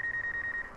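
A DJI Mavic 2 Pro drone's obstacle-avoidance alarm, triggered while the drone flies close to coconut palms, gives a steady run of about seven short, evenly spaced electronic beeps, clear and close.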